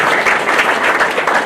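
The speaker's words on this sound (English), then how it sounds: "Give Jim a round of applause." Audience at a baseball finalist luncheon applauds former coordinator Jim Burke, a steady, dense wash of clapping that holds loud and even for the whole moment with no voices on top.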